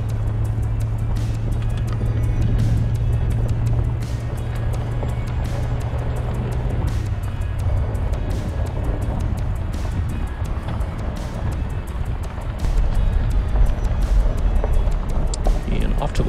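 A vehicle rolling downhill on a closed forest road near Lower Hermosa Campground in Durango, Colorado: a continuous low engine and road rumble with wind, steady throughout, heard from inside, with a person talking over it.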